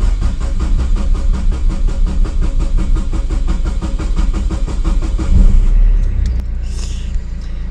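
Renault Modus engine cranking and firing after two and a half months unused, a long rhythmic starter churn that catches into a rough idle, loud and close with no talk.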